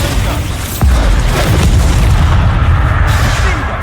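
A Bombarda spell explosion in the video game Hogwarts Legacy bursts loud and close as a deep boom, then rumbles on for a few seconds under background game sound.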